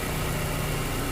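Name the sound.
car engine idling high after cold start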